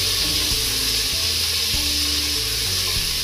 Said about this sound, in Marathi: एक साधारण 2 मिनिटे आपण टोमॅटो परतणार आहोत।